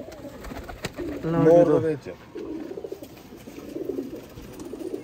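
Sialkoti pigeons coo in a short, throaty burst near the start, with someone speaking over and around the calls and softer bird sounds continuing behind.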